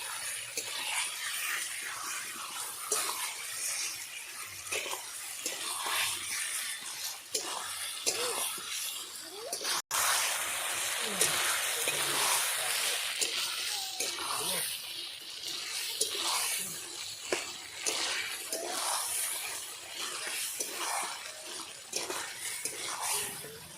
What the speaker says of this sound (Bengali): মাংস কিছুক্ষণ নেড়ে নিয়েছি